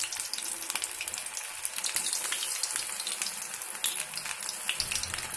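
Battered cauliflower for gobi 65 frying in hot oil, giving a steady, dense crackling sizzle close by with no talking.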